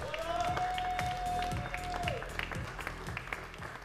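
A studio audience applauds to welcome boxer Muhammad Waseem, the clapping running throughout beneath a sustained musical tone and a regular thumping beat, fairly soft overall.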